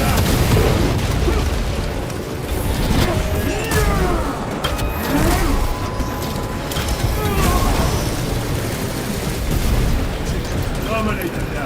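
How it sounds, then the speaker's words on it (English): A frag grenade bursts in Warhammer 40K Space Marine 2 amid a dense, continuous wash of combat noise, with booms and cracks layered over a loud, sustained battle din and no clear isolated blast. "Frag grenade out!"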